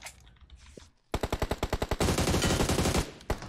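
Gunfire in PUBG Mobile: a rapid automatic burst of about a dozen sharp shots, then a dense roaring stretch of continuous fire, loud and close after a quiet start, with no speech over it.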